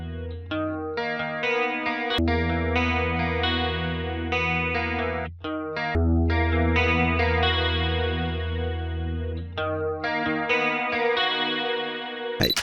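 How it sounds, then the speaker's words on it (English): A synth pad run through a Juno-style chorus effect plugin, sustained and shimmering tones with moving chords that play steadily and alone for several seconds. "this chorus can literally make it bright"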